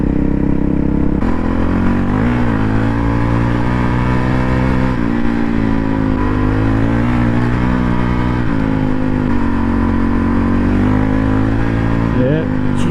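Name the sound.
Honda CRF450 rally motorcycle riding, lifting front wheel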